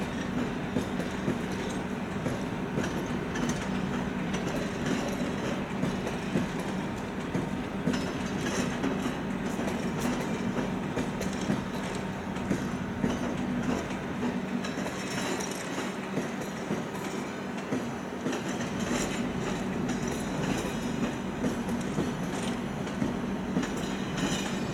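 An express train from Békéscsaba rolls into Budapest Keleti station, a continuous rumbling, clattering roar of wheels and cars with faint squeals, heard steadily from platform distance without talking.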